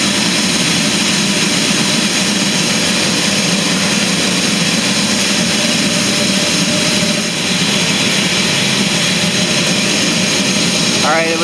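Burner of an ARC coffee roaster running with the fuel turned all the way up, a loud, steady roaring rush that fills the whole clip without a break.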